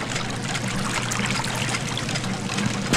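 Steady trickling, flowing water in the video game Sherlock Holmes: The Devil's Daughter, a continuous close stream of splashing and dribbling with a low hum underneath and no talking.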